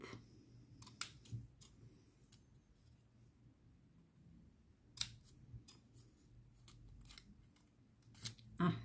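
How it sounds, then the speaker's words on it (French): Oversized scissors snip through paper during a snowman craft, giving a scattering of sharp, close clicks and cuts at uneven intervals over a quiet, faintly humming room. "ils sont limite trop grands, les ciseaux"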